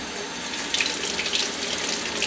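Tap water runs steadily and splashes as sweet potatoes are rinsed under a kitchen faucet, a continuous close hiss with slight surges.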